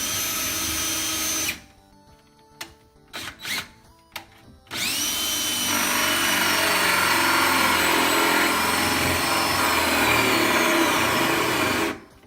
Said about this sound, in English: So we're going to drill this hole and then we're going to pull the cable through